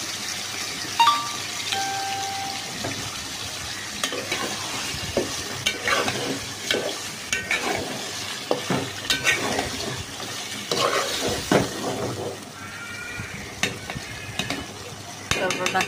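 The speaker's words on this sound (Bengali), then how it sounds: "মশলাটা কষাচ্ছি" Chicken pieces are fried and stirred with spices in a pan: a steady sizzle runs underneath, broken by frequent scraping and clattering of the spoon against the pan at close range.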